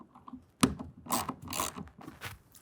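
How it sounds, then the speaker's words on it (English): A 1/2 inch socket ratchet tightens the clamp bolt on a hard folding tonneau cover, giving close, rapid ratcheting clicks in short bursts with metallic mechanical rattles between them. "And again, with the 1/2 inch, we're going to snug it down."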